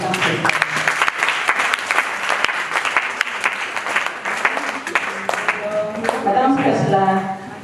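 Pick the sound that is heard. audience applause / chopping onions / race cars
audience applause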